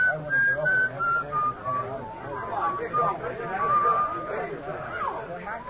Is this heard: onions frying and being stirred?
no